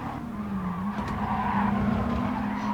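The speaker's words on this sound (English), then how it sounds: "another driver has actually spun out" A race car spins out with a sustained tire squeal and skid over a steady engine drone in the GT Sport racing game at Red Bull Ring, loud and continuous.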